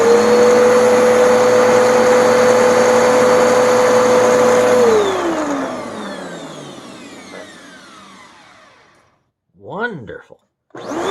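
A refurbished Bissell Powerforce Helix upright vacuum cleaner runs with a loud, steady whining roar, then powers down and its motor pitch slides away to near silence, followed by a couple of short knocks or clatters at the end.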